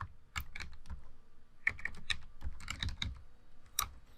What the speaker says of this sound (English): now I'm going to start typing